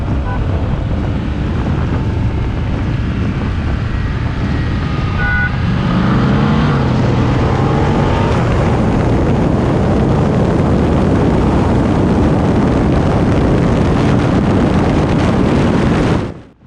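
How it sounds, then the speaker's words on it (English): A stock, roughly 20-year-old Dodge Viper with its naturally aspirated V8 roars through a roll race, loud engine drone rising in pitch mid-run under heavy wind buffeting, sustained to an abrupt cut at the end. "the most powerful naturally aspirated V8 Dodge has ever put into a production car"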